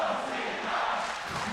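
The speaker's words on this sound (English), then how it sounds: "You can hear the crowd" Esports arena crowd at a League of Legends group stage match, cheering as a broad, steady roar that holds at even loudness throughout.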